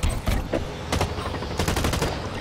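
Rapid gunfire in the video game Blacklight: Retribution, several loud bursts of shots cracking close by in quick succession with no talk over them.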